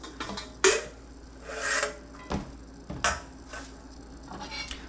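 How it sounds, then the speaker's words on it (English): Peeled carrots rasped against a box grater in a kitchen, several separate scraping strokes with pauses between them, close and moderately loud with no talking. "the first thing we're going to do is grate our carrots on a box grater"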